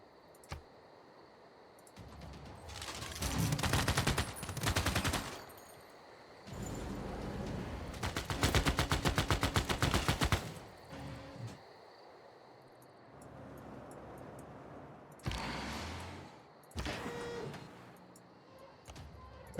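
Civilization VI combat on a Polish winter Earth map, with a unit firing on a city: several loud, rapid rattling bursts of attack effects separated by quieter pauses.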